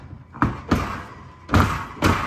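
A GE oven door is lined up with its hinges and set back onto the oven, with a few heavy thumps and clunks as it seats, spaced irregularly and close by.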